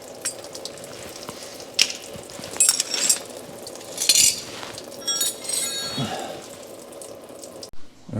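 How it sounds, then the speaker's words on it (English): Fuel drains from the disconnected main fuel line of a 1988 Mercedes 260E that has sat for years with rust in the tank. A steady trickling splash runs under scattered faint clinks and handling noises. "I disconnected the main fuel line and just gonna let it drain."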